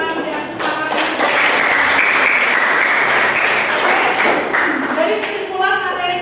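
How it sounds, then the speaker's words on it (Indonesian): A class of schoolchildren claps together for several seconds when the teacher asks them to, producing dense, even applause that fades out near the end as voices come in. "Kasih tepuk tangan yang sangat."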